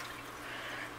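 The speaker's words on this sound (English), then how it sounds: "then I fill up his water about 3/4 of the way up" Tap water runs steadily into a hedgehog's water bowl at a sink, a brief continuous splashing hiss close by, with no talking.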